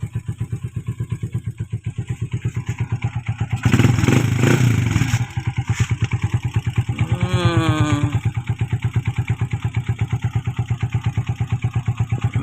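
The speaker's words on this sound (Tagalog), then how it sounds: "Open natin yung makina." A Kawasaki TMX Alpha motorcycle engine, freshly treated with oil metal treatment, idles close by with a steady rapid thumping pulse, briefly revved louder midway with a rising whine before settling back to idle.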